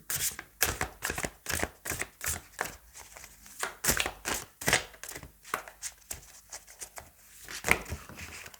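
Tarot cards shuffled by hand during a reading, a steady series of crisp riffling slaps and flutters, close and fairly quiet, with no talk.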